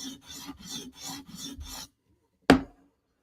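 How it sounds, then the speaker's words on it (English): Mini Arius knife edge rasping against a sharpening stone in six steady back-and-forth strokes to raise a burr, close and clear, then a pause and one sharp knock. "we're just working the edge so we know we're sharpening"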